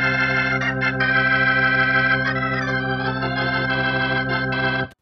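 A sustained, dry Hammond organ emulation chord sits close and loud, its tone gently swirling and wavering through a Leslie rotating speaker, then cuts off abruptly at the end.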